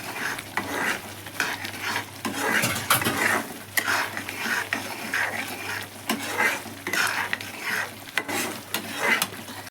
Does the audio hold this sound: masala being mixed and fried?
yes